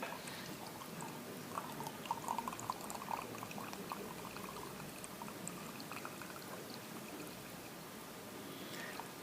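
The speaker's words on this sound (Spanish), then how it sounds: "Yo estoy echando agua." Water running steadily through a siphon tube in a physics demonstration, a continuous soft pouring and trickling wash that holds at an even level for the whole stretch, with no talk over it.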